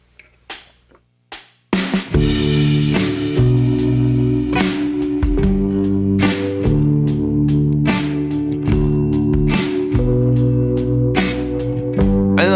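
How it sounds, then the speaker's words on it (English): Backing track for a song, used for lap steel practice in open D tuning: a few soft taps, then a full band groove with steady drums, bass and chords playing loudly and continuously. "So I have this backing track."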